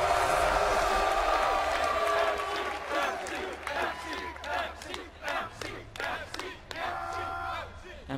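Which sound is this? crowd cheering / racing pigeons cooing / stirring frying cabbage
crowd cheering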